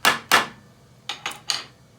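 Festool Domino connector anchor tapped with a smaller domino into a wooden sawhorse foot: two sharp knocks close together, then three lighter taps after a pause, near and alone.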